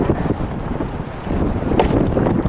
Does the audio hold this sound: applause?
no